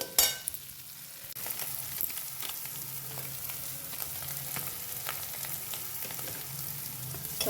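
Tadka spices crackle and fry in hot oil, a moderate sizzle with scattered pops and occasional stirring clinks of a utensil against the pan, sounding close and continuous with no voices.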